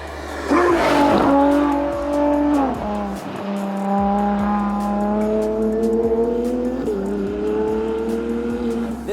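Race cars lap a nearby circuit beyond a screen of trees, engines rising and falling through gear changes in a steady, moderately distant drone with no voices.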